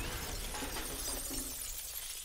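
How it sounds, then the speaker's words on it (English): An anime sound effect of everything shattering like glass, a dense bright crash of breaking shards that rings on and slowly fades, loud and alone. "everything shattering and coming back is crazy"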